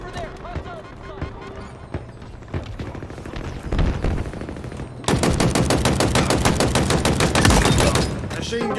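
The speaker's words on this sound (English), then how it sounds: "Machine guns suit you, Spartan." Rapid machine gun bursts in a large-team Halo Infinite battle, dense repeated firing that grows louder and heavier midway, with other gunfire and game voice lines mixed in.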